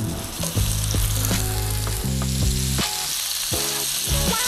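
Sausage meat browns in a pan with a loud, steady frying sizzle, broken by repeated thuds and scrapes of a utensil stirring the meat.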